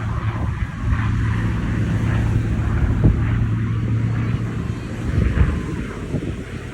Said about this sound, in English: Former naval fighter bomber, Fury was development from the Tempest, which in and of itself was the development of the Typhoon, late war radial engine, powerful fast aircraft